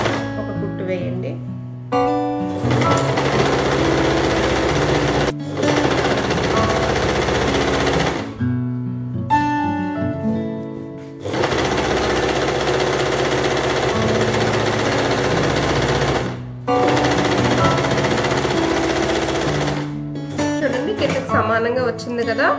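A sewing machine stitches an A-line frock: long runs of fast, loud mechanical whirring broken by brief pauses, with a voice talking between and over the stitching.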